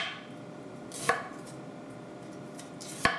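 Ginger is chopped with a knife on a board, giving two distinct, sharp chops about two seconds apart against quiet room background, with no talking.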